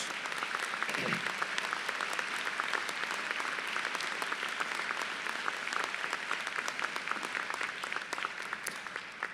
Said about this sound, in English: Would you give our teachers a round of applause?